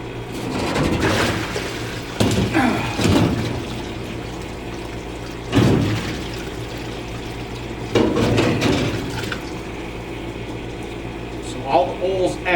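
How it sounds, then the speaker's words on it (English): A cylinder head lifted out of an ultrasonic cleaner's water, with sloshing, splashing and dripping, plus knocks of metal against the tank, close and fairly loud over a steady low hum. "we're ready to get the first head out of the ultrasonic cleaner"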